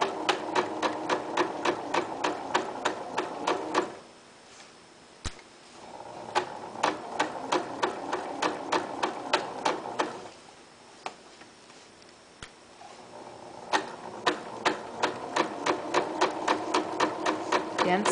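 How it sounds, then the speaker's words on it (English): Sewing machine stitching and back stitching a center pocket onto a locker caddy, running in rapid, even needle bursts, with two short pauses between three runs of stitching. "stitch forward, and then back stitch, so go a few back, and stitch all the way across,"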